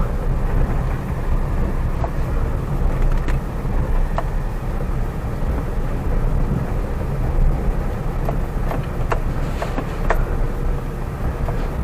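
A car creeps away slowly in first gear through a traffic jam on a wet road after rain, with a steady low engine and road rumble and faint intermittent clicks. No one speaks.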